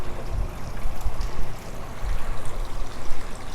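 A small garden water fountain beside a backyard shed trickles and splashes steadily, a continuous close babble of running water with no voices.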